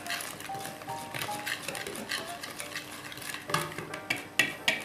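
Dough being mixed with yogurt and flour in a bowl for a summer gooseberry pie, giving a steady scraping, stirring clatter close by, with sharper knocks of the utensil against the bowl toward the end.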